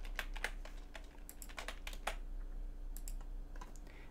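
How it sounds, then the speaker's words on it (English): Typing on an Amstrad CPC keyboard while entering a program, a quiet, close run of uneven clacking keystrokes in quick bursts over a steady low electrical hum. "we're going to type in our program"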